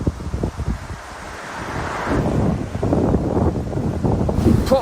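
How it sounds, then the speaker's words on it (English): Strong gusty wind buffets the microphone during an uphill bike climb, roaring and blustering in uneven surges that build louder toward the end. "Proper windy this morning"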